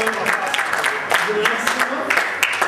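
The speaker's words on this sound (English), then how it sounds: "Round of applause for Chris, ladies and" A comedy show audience on a touring stand-up gig claps for a volunteer, a moderate, uneven burst of clapping with some voice-like sounds running under it.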